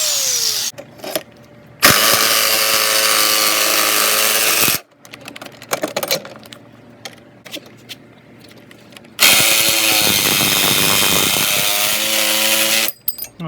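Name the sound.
angle grinder cutting an opening in a Sprinter van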